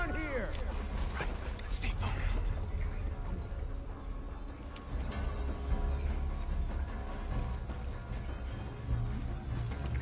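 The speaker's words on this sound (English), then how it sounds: "Oh, come on, a dog." Dog in The Last of Us Part II barking and yipping in rapid bursts, then whimpering, amid game combat noise and occasional crashing; close and loud throughout.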